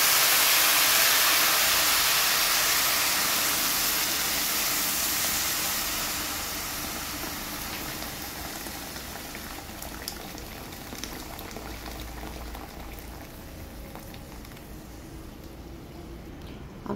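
Electric kettle of water rising to a boil in a home kitchen, a loud rushing boil and hiss that gradually eases and settles into softer bubbling and ticking, with no talking.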